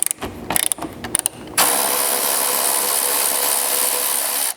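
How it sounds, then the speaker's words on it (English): Ratchet with a 12mm socket removing a single bolt on a Lexus GX or Land Cruiser 250 roof rack install, a few close clicking strokes followed by a loud, steady whirring run lasting several seconds. "That'll expose a single bolt head here that you'll have to remove again with your 12mm socket."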